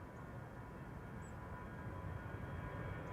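Aer Lingus Shamrock flight 603 jet departing Amsterdam Schiphol for Dublin, a steady distant roar of engines, faint and continuous throughout.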